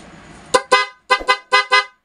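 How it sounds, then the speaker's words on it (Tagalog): Newly installed PIAA car horn honking in short beeps: two quick toots, a pause, then a double beep and two more toots, loud and close. "So ibusina po natin."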